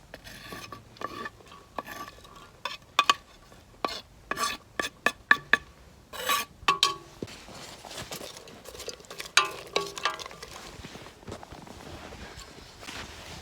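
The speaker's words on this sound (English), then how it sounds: "add the onions in" Chopped onions tumble into a pot of Irish stew on a wood stove inside a hot tent during winter camping, giving a run of sharp clattering knocks and scrapes followed by softer stirring rustles, close and moderately loud with no talk.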